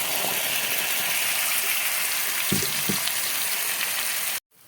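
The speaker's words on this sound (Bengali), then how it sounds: "এবার ওই বেটে রাখা উচ্ছের খোলা দানাটা দিয়ে দেবো।" Ground bitter gourd seeds added to a hot frying pan for stuffed karela, a loud continuous sizzle with a couple of soft knocks, cutting off abruptly at the end.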